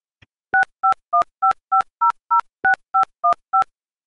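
A rapid series of eleven dual-tone telephone keypad beeps, evenly spaced and clear, with no talking, dialing a number before a speakerphone call.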